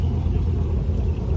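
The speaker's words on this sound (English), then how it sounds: "We got to get out of the way of this McLaren." A McLaren supercar rolls past at a Miami cars-and-coffee meet, a deep, loud, close engine rumble that holds steady throughout.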